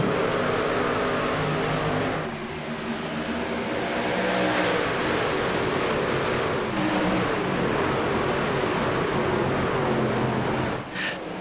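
Pack of racing trucks accelerating at the green flag at Nashville, a loud continuous roar of many engines revving together, dense and sustained throughout.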